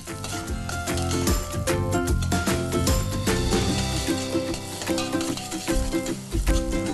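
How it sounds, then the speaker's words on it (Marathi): Green peas (matar) sautéed and stirred steadily in an oily pan, a continuous close sizzle with frequent scraping stirs running throughout, no voices. "याला सारखं सतत असं परतवत राहणार आहे"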